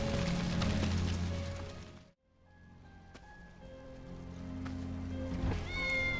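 A cat meows in drawn-out, wavering cries in Final Fantasy VII Remake over a dense, noisy background, with a short hush partway through before the meowing resumes.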